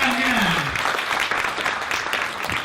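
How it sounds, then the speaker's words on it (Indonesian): Audience applause at an Indonesian community talk, a burst of clapping from a crowd that starts loud and gradually tapers off over a couple of seconds. "tepuk tangan untuk tangkiran."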